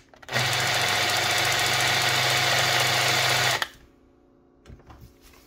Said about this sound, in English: You can see the jigsaw blade runs quite straight, whereas if I increase the pendulum, you'll see it sort of kicks out and looks a bit more aggressive.